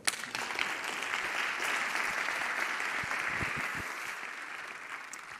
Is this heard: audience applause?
yes